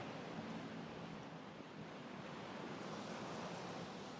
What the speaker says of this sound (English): Some really strong wind here.